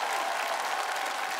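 A studio audience at a televised talent show claps together in a dense, even burst of applause, close and sustained.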